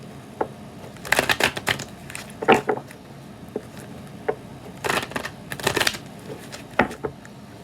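A deck of tarot cards cut and handled during a reading, giving several quick papery riffling and slapping bursts at irregular intervals, close and fairly soft.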